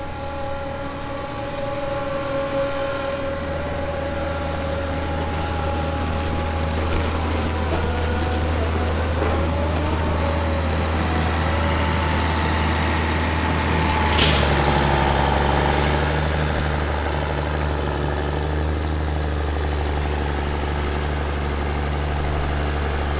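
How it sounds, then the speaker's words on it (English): A heavy tractor engine idles steadily throughout with a low rumbling drone, joined by a brief sharp hiss partway through, with no voices. Corn silage harvest. "Got another tractor there for packing without a blade"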